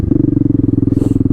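A Honda Grom motorcycle fitted with a swapped-in CBR engine lugs at low revs, giving a loud, close, rapid and even pulsing thump that stays steady, with a faint hiss near the end.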